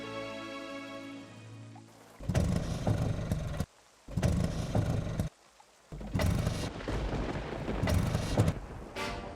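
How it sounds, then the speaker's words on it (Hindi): Heavy rain pours as an auto rickshaw with water in its engine fails to start, the downpour cutting in and out in loud bursts with brief near-silent gaps between them, and no talking. "रिक्शा स्टार्ट नहीं हो रही है मैडम। लगता है इंजन में पानी चला गया है।"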